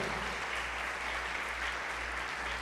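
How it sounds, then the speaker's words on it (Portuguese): A church congregation applauds during a Wednesday evening worship service, a steady, dense wash of clapping that fills the whole clip at an even level with no breaks. "dê um forte aplauso ao Senhor"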